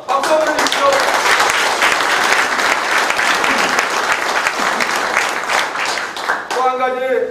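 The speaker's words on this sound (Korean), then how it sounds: "박수 한번 주십시오." A large audience at a campaign office opening breaks into sustained, loud applause that fills the space, fading slightly near the end as a voice begins.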